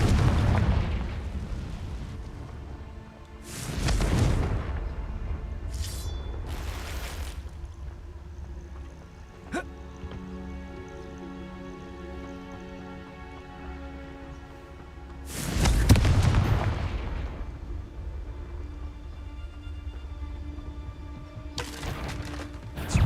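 The Confringo explosive spell goes off in Hogwarts Legacy, played on PS4: several loud booming blasts at irregular intervals with rumbling decay, separated by quieter game ambience and music.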